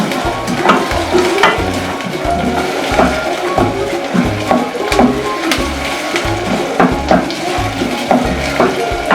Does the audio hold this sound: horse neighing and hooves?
no